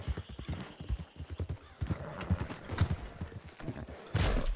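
Hooves clip-clop in an uneven trotting rhythm, fairly close, with a horse's short whinny and snort near the end.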